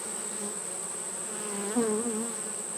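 Honey bees buzzing in a bee yard, a dense, steady droning hum close to the listener that stays even throughout, with a slightly louder pass near the end.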